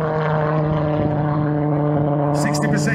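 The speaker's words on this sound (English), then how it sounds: "This aircraft is the Scout." A model aircraft called the Scout, running on kerosene-blend fuel, drones steadily at an airshow with a strong sustained engine tone, loud and continuous, with a brief higher whine near the end.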